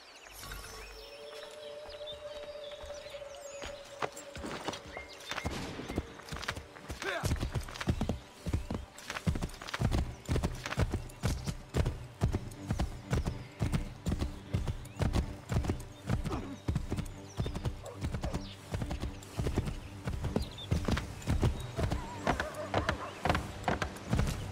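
A horse gallops in Assassin's Creed III, starting with a whinny and a few slow hoofbeats before breaking into fast, loud, rhythmic clip-clop that holds steady to the end.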